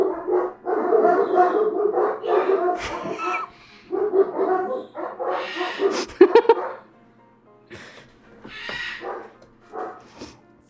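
A woman imitates a dog, giving a string of close, yappy barks and whimpers with her voice, pausing between bursts.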